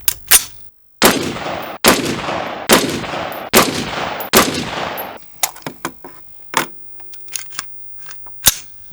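Rifle shots from Aguila .223 Remington 55-grain cartridges fired at a 50-metre range. A quick, evenly spaced string of loud, sharp reports rings out close by, followed by lighter metallic clicks and knocks.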